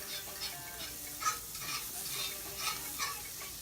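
Eggs frying in a pan, a steady soft sizzle with occasional stirring scrapes and small pops, close and fairly quiet with no talk.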